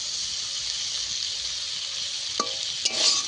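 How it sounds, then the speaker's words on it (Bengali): Potato filling for aloo kochuri, cooked with green chilli and a splash of water, sizzles steadily in a pan, with a couple of sharper stirring scrapes near the end. "আলুটাকে আমি কিছুক্ষণ আবারও কষিয়ে নেব"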